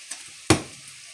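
Butter melting in a hot pan before frying pork chops gives one sharp sizzling burst that quickly fades to a faint crackle.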